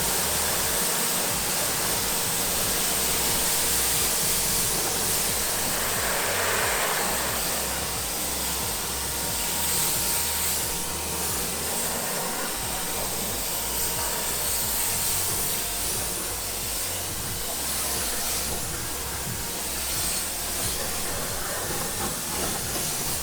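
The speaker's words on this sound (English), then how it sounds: "we're just gonna rinse the wheel off" A steady, loud rush of pressurised water sprays across a car wheel during a deep clean, a continuous hiss that holds almost unchanged for the whole stretch with no talking.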